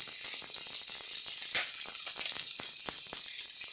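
Ramps and potatoes frying in butter in a pan give a steady, loud, close sizzle and crackle, with small pops throughout and no talking.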